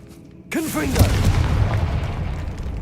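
A Confringo spell blast in the video game Hogwarts Legacy: a sudden loud boom erupting after a moment of quiet, followed by a rumbling fiery roar that lingers and slowly fades, with a voice briefly heard at the start of the burst.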